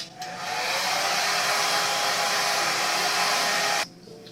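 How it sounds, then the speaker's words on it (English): A hair dryer runs at a steady, loud whir for a few seconds, then switches off abruptly, leaving a quiet room. "I'm going to blow dryer and just, you know, dry up all of that concealer"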